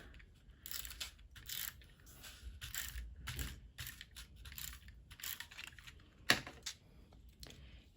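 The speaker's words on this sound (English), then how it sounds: "And now I'm gonna add a little bit of my rolly adhesive." A roller adhesive tape runner is pressed along card stock for a champagne shaker card, giving quick, close, dry clicks and rasps in an irregular run.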